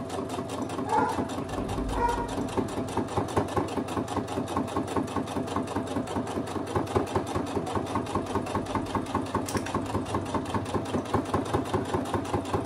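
A sewing machine stitches a fabric sewing organizer in a steady, rapid mechanical rhythm, close and continuous for the whole stretch, with no talking.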